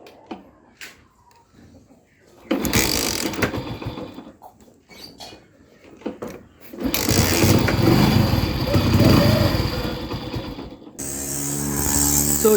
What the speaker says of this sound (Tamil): இப்போ வண்டி ஸ்டார்ட் ஆகிடும் நம்புகிறேன்.